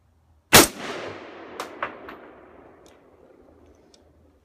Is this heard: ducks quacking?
no